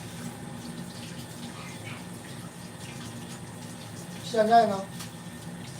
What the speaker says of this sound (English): You're washing the pork belly under the tap.